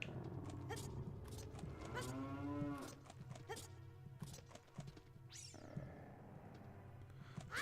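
A cow in Ocarina of Time Master Quest lets out a few drawn-out moos alongside game effects, sharp hits and clattering, with no talking.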